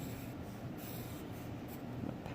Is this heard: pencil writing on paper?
yes